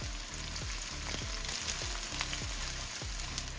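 Onions fry in hot cooking oil for a spicy Guyanese butter fish curry, a steady close sizzle and crackle with repeated soft stirring scrapes at a regular beat, and no one speaking.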